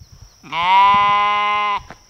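A single sheep on a homestead gives one long, loud bleat lasting over a second, close to the listener, with faint background sounds before and after.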